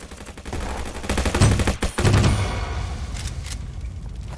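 Rapid automatic gunfire rattles in the web shooter game Venge, a loud, dense, close burst of shots running for a few seconds, then trailing off into scattered reports.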